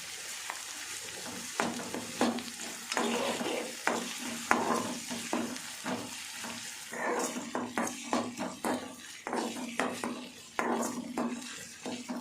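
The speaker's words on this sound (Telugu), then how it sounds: "కొద్దిగా అల్లం పేస్ట్ వేసి కొద్దిగా మగ్గనిద్దామండి" Ginger paste frying in a pan, a steady sizzle overlaid with repeated close scraping and clinking strokes of a utensil stirring against the pan.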